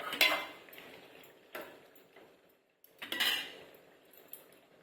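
A metal spoon scrapes and clinks against a pot in a few separate bursts while stirring a village-style chicken curry after tomato is added, with quiet pauses between strokes.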